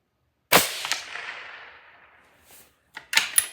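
A single scoped rifle shot cracks sharply at a staple target outdoors, its report decaying over about two seconds, followed by a few fainter clicks and knocks of handling nearby.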